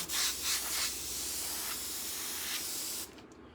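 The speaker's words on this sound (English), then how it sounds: "Airbrushing a moving object." An airbrush hisses in short bursts and then a longer steady spray as paint goes onto a hoodie, close and fairly quiet, cutting off near the end.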